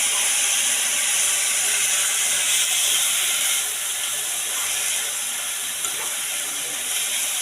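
Squid fry stirred in a hot pan, a loud steady sizzling hiss with faint scraping running throughout, easing slightly partway through.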